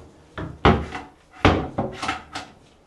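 A condo cabinet drawer in a newly made-over Scandinavian beige unit opens and closes, giving several close wooden thunks and slides in a quick sequence with no talking.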